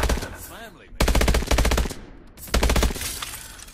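Automatic gunfire in Call of Duty: Advanced Warfare rattles out in three loud, rapid bursts of about half a second to a second each, separated by short gaps, close and punchy, with a faint voice underneath.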